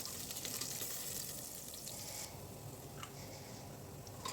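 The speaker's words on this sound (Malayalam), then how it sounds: "അതിലേക്ക് വെളുത്തുള്ളിയും ഇഞ്ചിയും പച്ചമുളകും കൂടെ ചേർത്ത് ഒന്ന് വഴറ്റിയെടുക്കുക." Garlic, ginger and green chillies sauté in hot oil with a soft, continuous hiss and crackle, faint and close, one burst of sizzling fading partway through before settling into a quieter fry.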